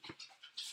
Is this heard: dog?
yes